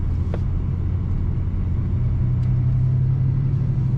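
A 1999 Ford Mustang SVT Cobra convertible with a manual gearbox, its engine and drivetrain giving a steady, loud rumbling drone with a rising whine toward the end, heard from inside the car.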